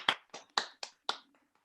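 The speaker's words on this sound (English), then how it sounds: "Let's thank our speaker again with a clap" Sparse hand claps from a small audience at an academic conference session on economics and politics: about five distinct, quiet claps in an uneven rhythm, trailing off into faint taps, with no talk.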